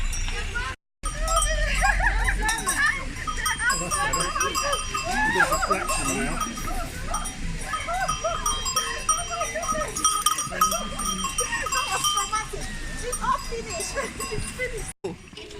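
Goats wearing cowbells mill about in an alpine goat village in the French Alps, bells clanking steadily and close by while a person talks over them throughout.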